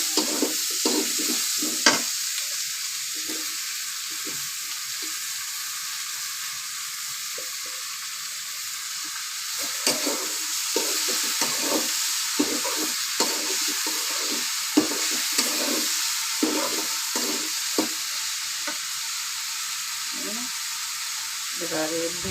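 Thinly sliced ridge gourd frying in a pan, a constant bright hiss of oil with repeated spatula scrapes and stirs layered on top, close and steady with little change in loudness.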